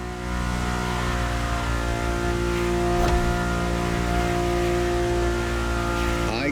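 A loud, sustained Ferrari engine drone, heard from inside the car in the video game The Crew Motorfest, holds a steady high-revving tone with strong harmonics, rising slightly near the end.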